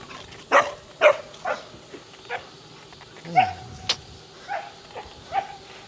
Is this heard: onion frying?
no